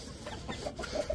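A hen clucks a few soft, short times at a moderate distance, mixed into a noisy outdoor background with no talking.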